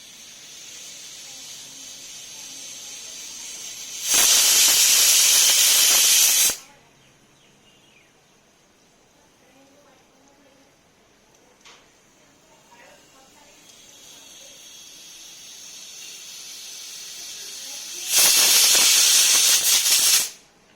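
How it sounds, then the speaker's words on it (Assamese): A pressure cooker with elephant apple inside gives two loud, sustained steam whistle-hisses, each about two seconds long and roughly fourteen seconds apart, with quiet background between them. "ঔটেঙাখিনি এটা হুইছেল মাৰিলে এনেকৈ আৰু মই 2টা হুইছেল মাৰিব দিম"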